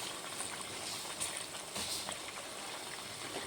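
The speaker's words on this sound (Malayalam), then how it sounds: "നല്ലപോലെ തിളയ്ക്കുന്നുണ്ട്." Herbal hair oil with rosemary bubbling at a steady boil in a pan, a continuous soft hiss and gurgle with faint popping, fairly quiet and close, with no talking.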